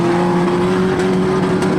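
Junior sedan race cars circle Mildura Speedway during an Australian title A-main, engines droning loud and steady as the field runs under way, with a continuous roar and faint passing swells.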